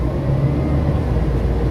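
Steady low rumble of a Walt Disney World Resort bus while riding on board, a continuous engine drone with no speech.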